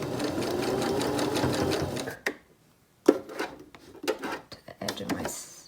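A domestic sewing machine stitches a fabric face mask in a fast, steady whirring run, stops, then resumes in short bursts with small clunks as the foot is lifted and the fabric turned.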